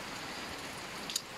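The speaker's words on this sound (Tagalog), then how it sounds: "Malakas ang ulan mga idol." Heavy rain falling, a steady, dense hiss of downpour with no pauses, plus one brief sharper tap near the end.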